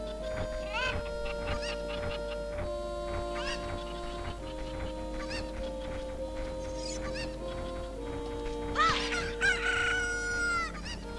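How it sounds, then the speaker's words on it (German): Chickens in The Legend of Zelda: Ocarina of Time crow loudly in repeated rooster-like calls, peaking near the end, over steady game music. "dann greifen uns nämlich alle Hühner auf einmal an"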